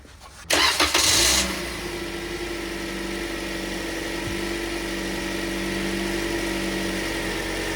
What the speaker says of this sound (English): I'm gonna go crank the engine over